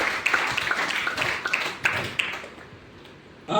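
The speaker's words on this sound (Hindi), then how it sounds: "जोरदार तालियां आप लोगों।" Audience applause in a Hindi-language motivational business seminar hall: scattered clapping with sharp individual claps over about three seconds, moderately close, fading out toward the end.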